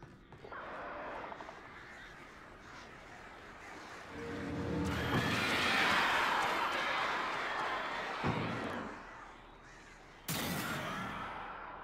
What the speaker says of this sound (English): Freaking birds. Screw these damn birds.